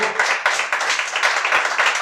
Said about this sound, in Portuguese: uma linda salva de palmas para o Senhor